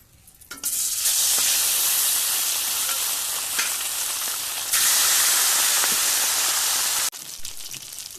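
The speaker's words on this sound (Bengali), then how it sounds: "মাছগুলোকে ভেজে নেব।" Bhangan fish fry in hot oil, a loud, steady sizzle that rises suddenly after a brief quiet start, swells again midway, then cuts off near the end.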